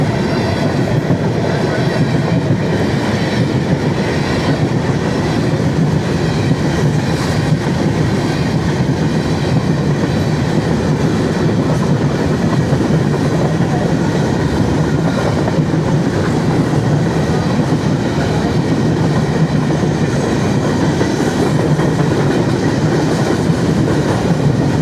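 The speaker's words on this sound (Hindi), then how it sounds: "और ये ट्रेन।" A train, hauled by an NLC locomotive, rolls through Ranpethani railway station, a loud, steady, close roar of wheels and wagons with faint clickety-clack running unbroken for the whole stretch, no voices above it.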